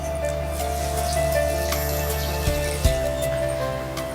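Water runs in a steady stream into a pan of sugar to make syrup, with a light continuous pour and a couple of small clinks against the vessel.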